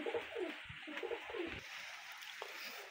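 Pigeons at a busy pigeon market in Khulna give soft repeated coos close by, rising and falling in short phrases over a faint background hubbub, with no speech.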